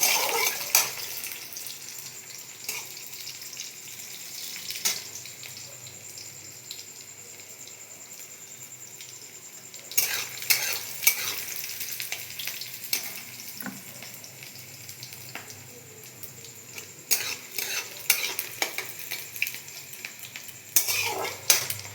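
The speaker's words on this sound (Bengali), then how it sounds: "পেঁয়াজটা আমি লাল লাল করে ভেজে নেবো" Onion fries in a pan for chicken ghugni, a soft sizzle under the clatter and scrape of a utensil stirring against the pan, with louder bursts of stirring now and then.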